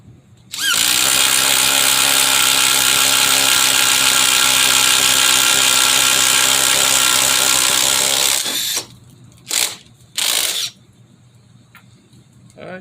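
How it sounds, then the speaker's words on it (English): A Ridgid subcompact impact driver runs at its single speed in one loud, steady burst of about eight seconds, then gives two short trigger blips, close up and alone. "Now let's do the impact driver."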